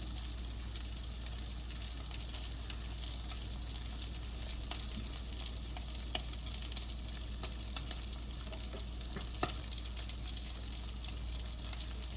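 Sausages fry in a pan with a steady, dense sizzle and crackle that holds evenly throughout, close and moderately quiet, with a few sharp pops and clicks scattered across it.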